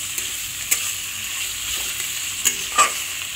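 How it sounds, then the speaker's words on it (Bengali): Onions and potatoes sizzle steadily in a pan, up close, with a few sharp spatula scrapes and clacks standing out over the continuous frying hiss. "দিয়ে একটু নাড়াচাড়া করে আলুটা দিয়ে দেবো"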